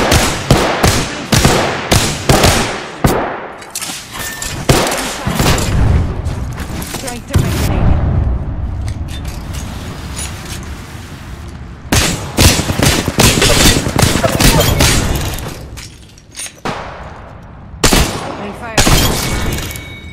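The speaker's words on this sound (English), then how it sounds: "The enemies are shooting at me." Dense in-game gunfire from an Apex Legends firefight, with rapid bursts and heavy booming shots hammering loudly and almost continuously, broken by short lulls and layered with game announcer callouts.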